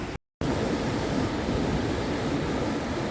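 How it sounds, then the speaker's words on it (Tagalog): Sea waves heard from a hotel balcony on Crete, Greece: a constant rushing surf roar at moderate loudness, broken only by a brief silent dropout near the start. "Malakas yung alo ng dagat."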